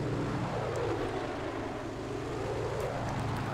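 Propeller warplane in Battlefield 5, a continuous droning engine roar that holds steady and close throughout.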